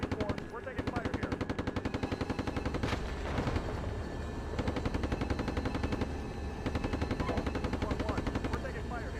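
Sustained automatic gunfire in a combat video game, long rattling bursts repeating across the whole stretch with short gaps, loud and dense, mixed with low rumble and some radio-style chatter beneath.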